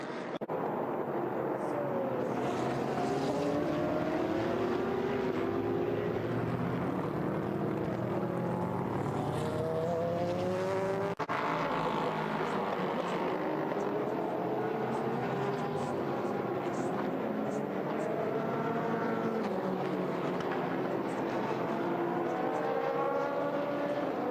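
Race cars at the 2022 Rolex 24 at Daytona roar past in repeated sweeping engine passes, rising and falling in pitch, with a commentator talking over them.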